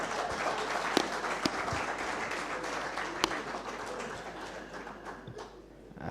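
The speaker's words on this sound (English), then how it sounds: "can I request that we clap for our guest of honor?" Conference audience applauds a guest of honor at an insurance brokers association event in Uganda, sustained dense clapping filling the hall for several seconds with a few sharper claps standing out, then gradually thinning toward the end.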